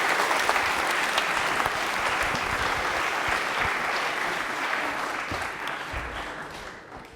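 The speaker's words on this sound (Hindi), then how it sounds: "वंदना के लिए तालियां जोरदार वाली होनी चाहिए" Studio audience at a televised quiz show applauds contestant Vandana Sharma, a dense, steady wash of clapping that holds strong for about seven seconds before easing slightly at the end.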